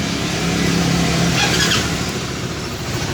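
A Sym GTS 250i motor scooter engine running close by at a steady idle, its buzzing drone swelling briefly then settling; no voices.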